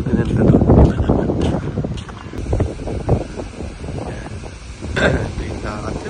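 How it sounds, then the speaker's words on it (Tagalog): Strong ocean waves surge at a resort beach, a steady rumbling wash buffeted by heavy wind noise, with swells rising around the start and near the end while people talk over it. "Ang lakas ng alon dito"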